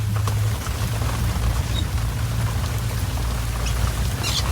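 Rain falls steadily during a safari drive through muddy terrain in Kenya, a constant dense patter and hiss over a low vehicle rumble, with no voices.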